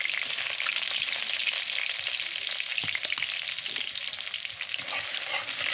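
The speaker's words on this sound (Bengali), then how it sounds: "পেঁয়াজটা লাল লাল করে ভাজা করে নেব" Chopped onions sizzle steadily in a generous amount of hot oil in a wok, a continuous close frying hiss with faint stirring clicks and no voices.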